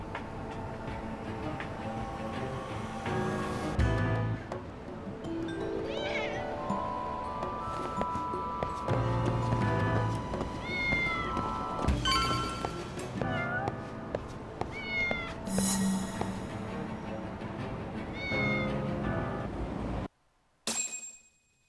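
Cats in the video game Lost Judgment meow repeatedly at close range, with drawn-out rising and falling cries scattered over a steady game background before a sudden cut to near silence.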